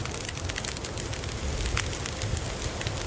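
A campfire burns in The Long Dark, giving a steady broadband crackle and hiss with scattered sharp pops. It runs evenly and fairly loud throughout, with no voices.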